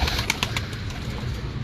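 Breeder pigeons cooing close by in a loft, soft repeated coos over a steady low rumble of background noise.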